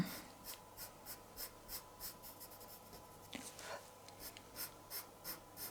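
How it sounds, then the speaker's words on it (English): Soft, rhythmic scratchy strokes of a paper stump blending brown and orange colored pencil on paper while drawing a pumpkin, close and quiet, repeating about every half second with a slightly louder burst midway. "blend over a bit with the paper stamp and mix the brown with the orange tones together"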